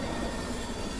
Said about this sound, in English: It's just the train.